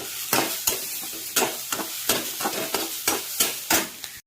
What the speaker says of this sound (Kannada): ಈಗ ಸ್ವಲ್ಪ ಕಾಯಿ ಹಾಕ್ತೇನೆ, 1 ಹಿಡಿ ಕಾಯಿ. ಚಂದ ಮಾಡಿ ಫ್ರೈ ಮಾಡಿ.